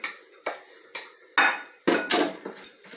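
Cooked jiló mixed with peppers and seasoning being stirred in a bowl: a utensil scrapes and knocks against the sides in a series of about eight clattering strokes, close and fairly loud, with no talking.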